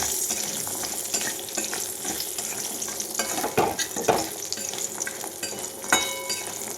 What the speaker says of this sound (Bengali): ওই তেলের মধ্যে আমি দিয়ে দিচ্ছি বড়ি বড়িগুলো হালকা করে ভেজে আমি তুলে নেবো